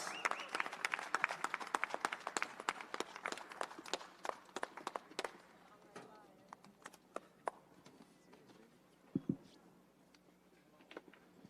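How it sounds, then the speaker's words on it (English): Applause for a champion boxer at a post-fight press conference, dense clapping at first that thins out midway, leaving scattered claps, room noise and a few faint sounds. "Round of applause to the champ."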